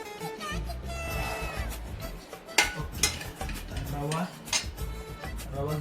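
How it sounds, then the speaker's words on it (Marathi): Semolina (rava) is roasted in a pan and stirred by hand, giving close scraping and rattling strokes with a few sharper clinks against the metal. "पहिलं मला रवा भाजून घ्यावा लागेल"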